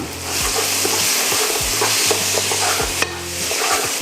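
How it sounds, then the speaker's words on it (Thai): Seasoned beef fried rice with basil stir-fried in a pan, a steady loud sizzle with rhythmic scraping strokes of the spatula every second or so, no voices. "ผัดให้เข้ากัน"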